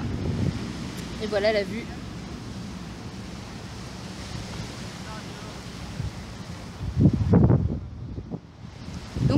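Gusty wind buffets the microphone in a constant rushing roar, swelling louder near the end, while a person speaks briefly in French over it, outdoors in Hawaii.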